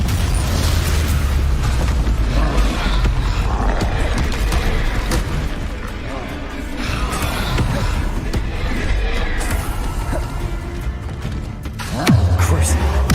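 Explosive spell blasts from a Hogwarts wizardry video game, with booming, rumbling bursts running through the whole stretch under steady background game sound and voice.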